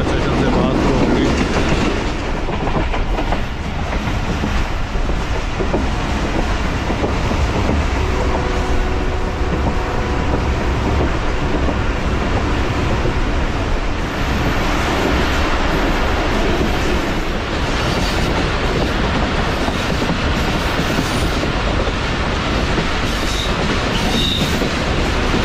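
Pakistani train running on the line from Rawalpindi toward Chak Pirana, a loud continuous rolling roar with rhythmic clickety-clack of wheels over rail joints and occasional squeals.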